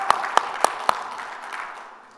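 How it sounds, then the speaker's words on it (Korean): A church congregation claps: four sharp, evenly spaced claps ring out close by, then fade into a soft reverberant tail in the hall. "하나님께 영광의 박수."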